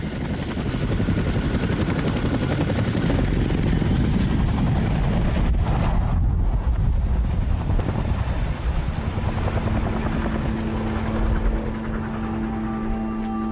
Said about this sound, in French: À mesure que l'hélicoptère s'éloigne